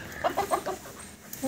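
Free-roaming chickens pecking at scattered grain in a home yard give a short run of soft, rhythmic clucks, fairly quiet and close.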